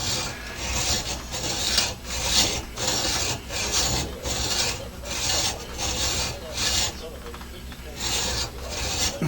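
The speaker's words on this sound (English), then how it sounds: "we'll go ahead and just add a little bit more from the hacksaw" Hacksaw cutting a V groove in metal, rasping close-up in an even back-and-forth rhythm of about nine strokes, each a harsh, gritty swipe.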